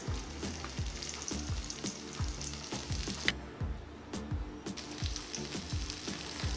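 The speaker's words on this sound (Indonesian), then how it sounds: "saya akan menumis bumbu ya, bawang merah, bawang putih," Shallots, garlic and chili sautéing in a pan, a steady close sizzle with repeated rhythmic scraping of a spatula as the mixture is stirred, with no talking.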